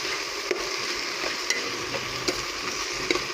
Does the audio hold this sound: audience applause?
no